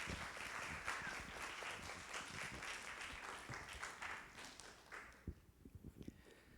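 A church congregation claps to welcome a visiting missionary to the pulpit, a dense steady round of applause that thins into scattered final claps near the end.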